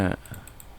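Computer mouse clicks while working in AutoCAD 3D drafting software: about four faint, quick clicks in a row that follow a short burst of nearby speech.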